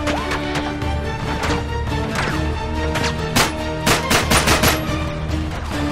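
Rapid gunfire from the video game Uncharted 3, with loud repeated shots and bursts in close succession over a steady game soundtrack.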